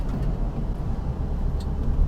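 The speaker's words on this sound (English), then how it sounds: "here I'm demonstrating that this car can certainly do a little bit of mobbing" A 2022 Mini Cooper S Hardtop 4-door is driven briskly through turns, heard from inside as a loud, steady low engine and road rumble with slight swells in intensity.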